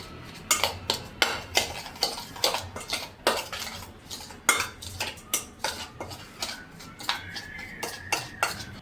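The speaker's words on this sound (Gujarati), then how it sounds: "આ બધું બરાબર મિક્સિંગ કરી લેશું." Metal spoon mixing Kashmiri red chilli powder, salt and other spice powders in a bowl for lemon chutney, a steady run of light clinks and scrapes against the dish, close and alone.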